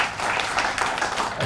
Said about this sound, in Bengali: প্রথমে ওদের জন্য জোরে করতালি হওয়া উচিত।